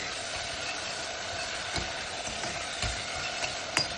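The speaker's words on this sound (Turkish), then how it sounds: "Bu şekilde kavurmaya devam ediyorum." Food sautéing in a pan with salt and chili powder, a soft steady sizzle broken by a few sharp scrapes and clacks of stirring, close and fairly quiet.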